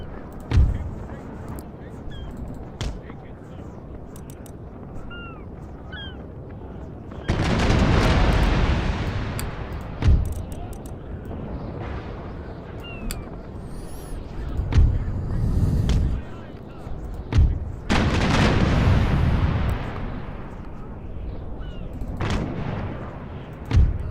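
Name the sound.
ship cannon salvo in video game Empire Total War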